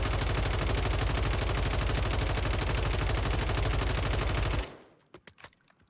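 Sustained automatic gunfire from a weapon in the Warzone video game, a dense, rapid burst of shots lasting several seconds, loud and close, then cutting off into a few faint scattered clicks and sounds.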